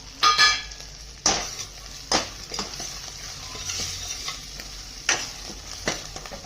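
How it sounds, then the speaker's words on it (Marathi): Curry leaves and dried red chillies crackle in hot tempering oil for a dal palak khichdi, with sharp spitting bursts, a steady sizzle and occasional spoon-on-pan clinks, close up with no talking. "ते त्याच्यामध्ये कढीपत्ता, लाल मिरची पण टाकायची"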